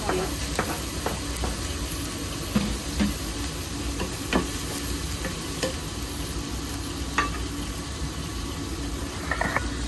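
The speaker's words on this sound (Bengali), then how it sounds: "আর এ পাশে ডিমটা ভাজা হচ্ছে" Continuous frying sizzle of an egg alongside onion, garlic and poppy seeds in a pan, with occasional clicks and scrapes of a utensil, fairly close and steady throughout.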